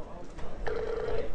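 A telephone rings over a news broadcast, a single electronic ring tone heard beneath a person talking, mid-level and steady.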